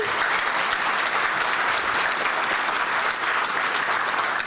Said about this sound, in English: we need to give David a big hand of applause.